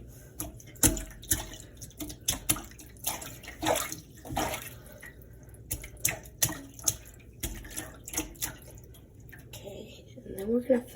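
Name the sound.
hands splashing water in a sink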